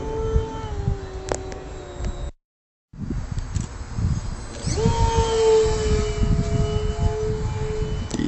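The motor of a Multiplex Tucan RC model airplane on its maiden flight gives a thin whining drone that cuts out briefly, then rises in pitch and grows louder as the throttle comes up, with a rough outdoor background.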